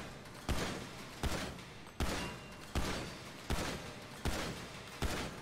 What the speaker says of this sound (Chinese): 咱们换把其他手枪，比如说战斗手枪，可以吧？ 再来一把啊，各就各位，开始瞄准射击。